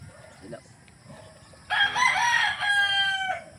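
A pure Gilmore hatch gamecock rooster crows loudly and close by, one long strained crow with a ragged tail. Faint clucks and low background noise come before it.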